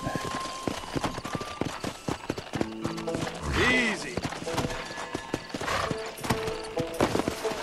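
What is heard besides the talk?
horse in video game Red Dead Redemption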